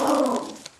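A dog lets out a short, rough growling bark close by, loud at first and then trailing off quickly.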